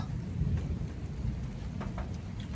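Steady rain and low thunder rumble together in a summer storm, a constant dense wash with a few brief crackles and no voices.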